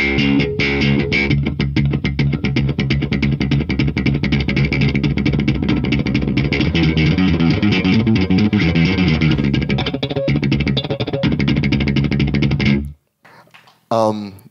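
Electric bass played with a thumping technique, fast three-note groupings on a single string, loud rapid percussive attacks in a steady stream before stopping abruptly, followed by a brief quiet noise.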